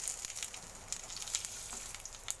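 Bay leaves and cumin seeds sizzle in hot oil, a tempering for a Bengali fresh pona fish dish, with a steady, soft crackle and small pops throughout.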